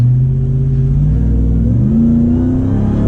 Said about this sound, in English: Hear that supercharger pulling you from a dig?